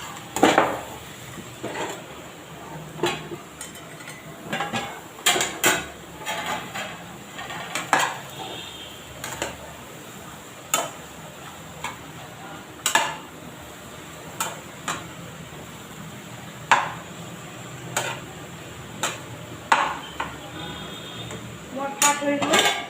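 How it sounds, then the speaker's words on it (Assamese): A utensil scrapes and clinks against a pan as fried greens are stirred in a home kitchen, sharp irregular metallic taps repeating over a quiet sizzle, close and moderately loud. "শাকটো এনেকৈ লৰাই দিম।"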